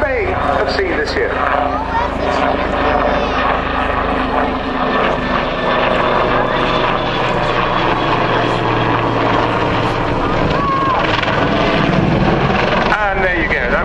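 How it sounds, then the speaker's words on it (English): A helicopter performs a roll at an airshow: loud rotor and engine noise swells and shifts continuously while a commentator talks over it. "The very first roll by a helicopter that you may have seen this year."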